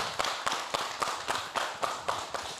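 A Korean TV studio audience claps in a steady, even rhythm to welcome a visiting exercise-prescription professor. The sharp, moderately loud beats repeat about four times a second, with no talking over them.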